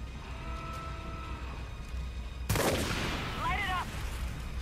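Gunfire at fuel tanks in Far Cry 5, with a sharp blast breaking in halfway through over a continuous rumbling game background, followed by a brief voice.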